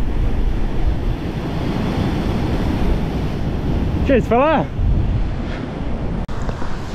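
Sea waves roll in on the shore in a steady broadband wash, loud and continuous, with wind buffeting the microphone, a brief whistle-like chirp near the middle and someone speaking briefly.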